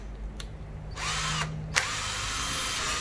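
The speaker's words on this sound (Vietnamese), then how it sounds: "Này tới búa, khoan búa." A Japanese cordless hammer drill runs in hammer mode up close: a steady, loud mechanical whir broken by a few sharp bursts as the tool starts and catches.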